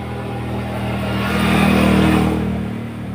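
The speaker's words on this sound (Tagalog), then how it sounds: "Kasi pag dito ka sa may tabing kalsada, dami kang makikitang sasakyan kahit bilangin mo." Steady traffic on a roadside, with cars and motorbikes passing close by in a continuous loud engine roar that swells in the middle and then eases off.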